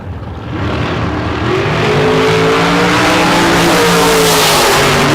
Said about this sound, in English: That green Dolezal family dragster, 489 is the predicted performance.